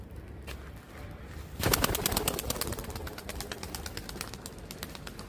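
A tumbler pigeon bursts into flight with a loud flurry of rapid wing claps, followed by a steady rhythmic flapping that carries on close by.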